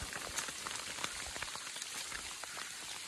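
Rain patters steadily on surfaces and leaves during a mountain hike on the way to Baigu Dashan, a dense, close drumming of drops with no talk.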